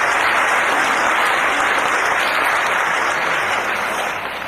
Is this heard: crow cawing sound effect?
no